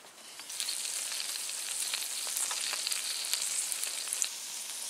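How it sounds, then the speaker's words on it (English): Burgers frying in a pan at a snowy winter campsite, a steady crackling sizzle with scattered sharp pops, moderately close and alone with no voices. "So I got some burgers cooking."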